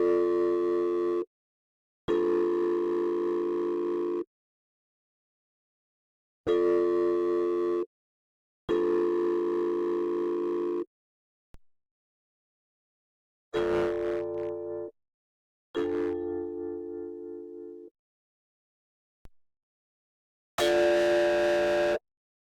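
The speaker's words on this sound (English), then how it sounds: "we want to have the antipole distortion selected, which is quite screamy and is picking out the tones in this bandwidth really well" Soloed frequency bands passed through Ohm Force Ohmicide's screamy antipole distortion: a series of separate, harsh, sustained buzzing tones, each lasting one to two seconds, with silent gaps between them and no voices.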